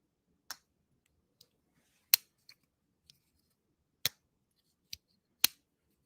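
A slip joint pocket knife blade clicks through its half stop, giving a series of sharp, close metallic snaps spaced irregularly over a few seconds, with quiet gaps between them and no talking.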